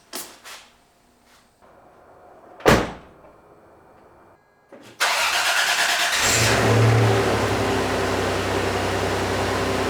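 Some faint knocks and a door-like thump come first, then a Toyota 4Runner's mid-range engine cranks and fires. It settles into a steady, close running drone with a short rev as the vehicle pulls away.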